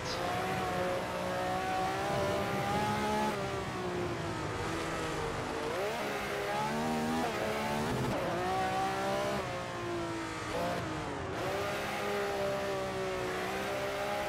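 A 1967 Ferrari 312/67 Formula One engine howls around the Nordschleife in the racing sim GPL, a steady high-pitched wail that climbs and drops with each gearshift and lift through corners, continuous and close without speech.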